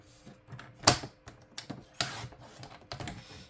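Card paper being cut while making a money holder card: a run of sharp, close clicks and snips, with one louder crisp cut near the start and softer irregular ones after, with no talking.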